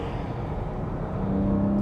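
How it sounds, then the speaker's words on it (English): Porsche Cayman GTS engine on a racetrack during a rev-matched downshift to third gear, a steady loud drone that rises slightly in pitch toward the end. "rev matching downshift to third gear"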